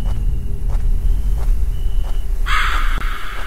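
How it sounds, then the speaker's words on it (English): A crow caws in the survival horror game Survivors Viy, a raspy call bursting in near the end over a steady low ambient drone with faint rhythmic ticks. "Shut up, Crow."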